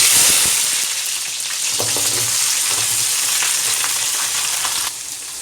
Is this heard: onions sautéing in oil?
yes